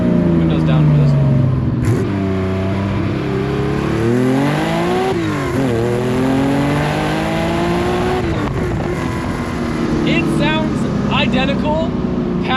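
A naturally aspirated Nissan Skyline wails up past 7,000 rpm, its harmonics climbing through repeated sweeps and shifts, loud and close, with short bursts of sound breaking in near the end.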